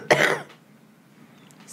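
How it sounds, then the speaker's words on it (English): A person gives one abrupt, close cough into a blanket, followed by quiet room tone and a faint rustle. "And now you're coughing into my blanket."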